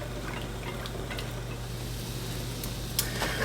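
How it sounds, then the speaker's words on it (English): A whisk stirs alfredo sauce seasoned with salt and cayenne pepper in a pan, making soft continuous scraping and swishing with a few sharper clinks near the end over a low steady hum. "I'm actually just going to use my whisk to get this all nice and mixed together"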